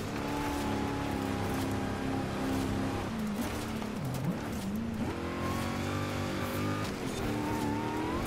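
An engine in the Forza 5 video game drones steadily at high revs as the car labours through sand. Its pitch dips and wavers midway, then climbs again, with faint tyre slip and no voices over it.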